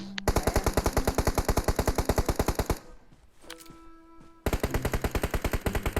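Automatic gunfire in the mobile battle royale game PUBG Mobile, rapid evenly spaced shots in two long bursts separated by a short pause with quieter ringing tones, loud and close.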